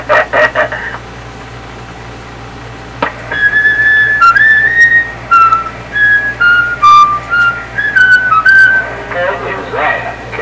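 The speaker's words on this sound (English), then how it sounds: "Someone out there trying to whistle." Someone whistling over a CB radio channel, a wavering, stepping melody of short held notes through static and hum, with a brief radio voice burst at the start.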